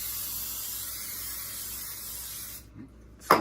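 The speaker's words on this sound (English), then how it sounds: "Now I'm gonna spray my pan with some Pam" A steady spray of Pam cooking spray hisses continuously onto a pan for a few seconds, then cuts off, followed by a couple of faint clatters.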